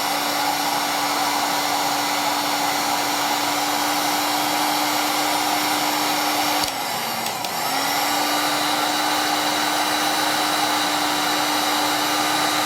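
A heat gun blows hot air over heat shrink tubing on custom cable sleeving, a loud, steady whirring hiss with a low hum that briefly dips and wavers midway before resuming evenly.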